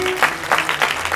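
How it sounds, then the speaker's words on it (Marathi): A crowd claps at an outdoor rural gathering, a short burst of several rhythmic claps rising and falling, fairly close, with a faint sustained tone underneath. "टाळ्या वाजवा."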